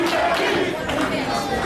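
Independent wrestling event crowd reacting, a close, lively mix of shouts, chatter and yells that rises and falls in quick bursts, with voices overlapping throughout.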